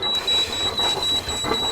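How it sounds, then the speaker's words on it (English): Aboard a sailing yacht leaving a shallow berth, a thin electronic beep repeats in a steady, rapid pattern over faint background noise. "You'll have to excuse the beeping."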